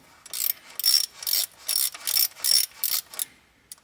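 A 7mm ratchet turns a bolt on a Mercedes ML350 during an auction-car repair, giving about seven quick, close clicking bursts in a steady rhythm before a final faint tick, with no voices.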